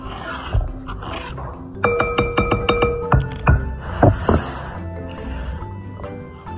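Spice paste being stirred into mashed tofu in a bowl, the spoon knocking against the bowl in a run of bright clinks and scrapes, close and fairly loud, with no talk over it.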